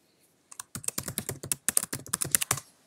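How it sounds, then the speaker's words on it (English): Quick run of keystrokes on a MacBook Air keyboard while entering a password, about twenty crisp, close clicks in an uneven rapid rhythm, with no voices. "enter your password, and now it's going to load up."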